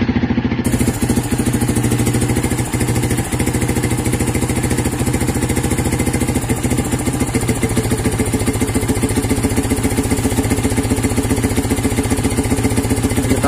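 A Yamaha New Vixion Lightning motorcycle with a Juken 5 dual-band ECU runs at high revs, giving a loud, steady, close engine drone with a fast, even firing pulse that holds for the whole stretch.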